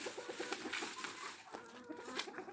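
Chickens on a Turkish farm where a calf and other livestock are kept, clucking in a steady, busy chorus at moderate distance, with a few sharper calls standing out.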